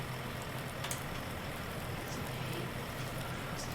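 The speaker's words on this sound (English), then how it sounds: "It's raining. It's raining all day." Steady rainfall in the farming video game Farming Simulator 19, a dense, even hiss of falling rain with faint patters, continuous and moderately loud throughout, no talking.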